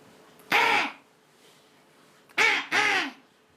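A voice imitates a hungry crow cawing during storytelling with students: three harsh, nasal caws, one alone and then two in quick succession, close and clear with quiet pauses between.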